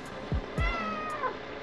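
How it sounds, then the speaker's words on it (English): A cat meows twice in short, rising calls, close by, over a quiet indoor background with a faint tonal hum and no talking. "Let me show y'all this cat real quick."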